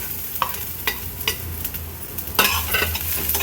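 Washed and dried baby shrimp sizzle in a hot pan greased with a couple of drops of oil over a gas flame, a steady close frying hiss with scattered pops and a louder burst of crackling near the end.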